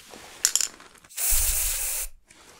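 Unscented spray from a pump bottle, a couple of short faint spritzes followed by one long, loud, close hissing burst lasting nearly a second, then quiet.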